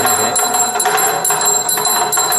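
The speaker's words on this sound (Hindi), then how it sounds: "ये जो डमरू और घंटी बजा रहे हैं" Metal bells ring in steady, repeated rhythmic strokes during worship, loud and close, with a damru drum beaten alongside; no one speaks.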